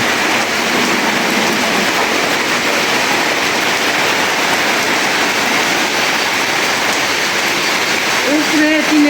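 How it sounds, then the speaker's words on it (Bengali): Rain falls steadily in a rural home setting during hot weather, a dense, even hiss that stays constant throughout, with a brief voice surfacing faintly near the end. "বৃষ্টি মোটামুটি হচ্ছে"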